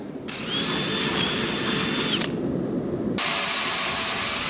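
A power drill whines steadily at close range boring holes in a metal plate, pausing briefly in the middle before starting up again, with a grinding, mechanical edge.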